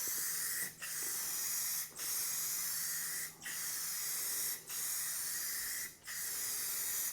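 Clear coat sprays from an aerosol can in steady hissing bursts of about a second each, with five short pauses between them, close up and loud over a faint background hum.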